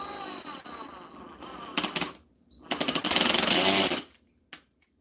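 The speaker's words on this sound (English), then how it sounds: "just to pre-drill this hole, the holes." Power drill pre-drilling holes in a tufted mirrored ottoman, several short loud bursts with pauses between them, then a longer sustained run of about a second, close by; faint talk and a brief cat sound come before it.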